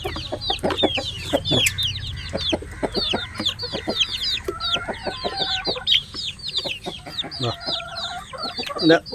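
Black Kadaknath chickens in a coop cluck busily and continuously, with dense overlapping calls and short squawks close by, a low background hum underneath.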